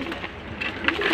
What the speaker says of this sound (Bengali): নটটা কিন্তু খুব পাগলা আর ঘুম ঘুম করে ডাকে।